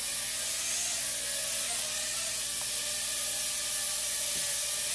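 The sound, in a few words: Loolinn X26 drone flying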